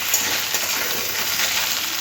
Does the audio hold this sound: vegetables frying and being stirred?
yes